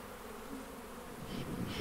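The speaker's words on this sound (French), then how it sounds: "À l'ouverture de la ruche, j'enfume par le haut pour faire descendre les abeilles dans le bas" Honey bees buzz steadily at an apiary, a dense, continuous hum that swells slightly louder toward the end, with no voices.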